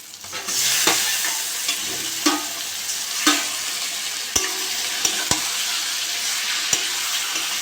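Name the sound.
frying fish (lote fish) in spiced oil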